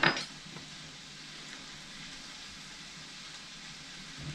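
Scrambled eggs fry in a pan for breakfast fried rice, giving a faint, steady sizzle after a brief clink at the start, with no one speaking.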